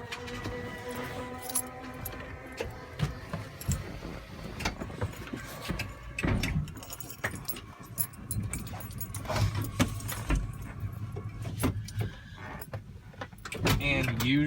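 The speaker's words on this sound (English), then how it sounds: "there's buttons up here to shut the ramp" A wheelchair ramp on a van closes at the press of a button, a steady mechanical whir and rattle running under a dense layer of clicks and clunks, close by with no talking.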